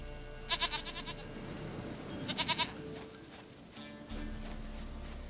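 A goat from Witcher 3: The Wild Hunt lets out two short, stuttering bleats a couple of seconds apart, near and moderately loud over a low game ambience.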